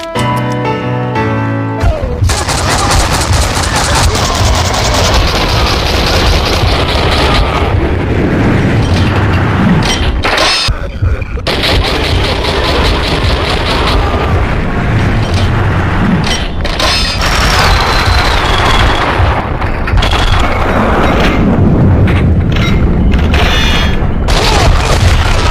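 Loud gunfire and explosions in the video game Max Payne 2, with heavy booming blasts and rapid bursts layered over a dense, continuous action soundtrack.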